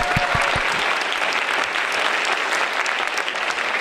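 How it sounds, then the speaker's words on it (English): A school concert audience applauds a band paraprofessional during an awards segment, with steady, dense clapping that holds at an even level throughout and a few sharp claps standing out at the start. "Let's give Ms. Smith a round of applause."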